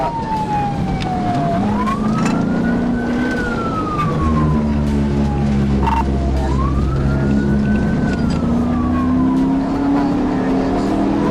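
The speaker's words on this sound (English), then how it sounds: "I activated my hazard lights and siren to signal the motorcyclist to stop." A police car siren wails in slow rising and falling sweeps during a chase, loud and close over the rumble of a moving vehicle, with no talking.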